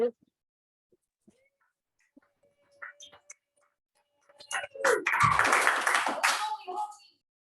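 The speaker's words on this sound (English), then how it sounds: "And with that, let's give one last round of applause to our Hall of Fame guest today, Thurman Thomas." Students at East Aurora applaud a Hall of Fame football guest, Thurman Thomas, with a loud burst of clapping that swells and then fades over about three seconds, after a few quiet scattered sounds.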